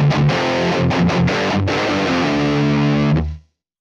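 Heavily distorted electric guitar through the Neural DSP Mesa Boogie Mark IIC+ amp plugin on its default setting plays loud chugging chords with short choked gaps, then rings out on a sustained chord that cuts off abruptly.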